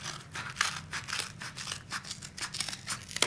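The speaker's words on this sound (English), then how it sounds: "we're going to take our scissors and we're going to cut it in half" Repeated crunchy snips of scissors cutting through a cardboard paper towel tube, close and fairly quiet, in an uneven rhythm with crinkling between cuts.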